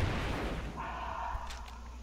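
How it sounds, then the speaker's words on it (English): A thrown grenade detonates inside a cave in Call of Duty: Ghosts, a deep low-end boom at the start that rumbles and fades over two seconds, followed by faint tonal game sounds. "Look out, I threw a grenade."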